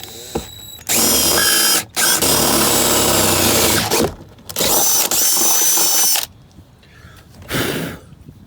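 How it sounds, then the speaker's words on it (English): A power drill whines loudly through the metal floorboard of a Chevrolet S10 in several bursts of a second or two, stopping and starting, close up, with a faint clatter between runs. "I'm just gonna pick a random spot to drill a hole to run it through the floorboard"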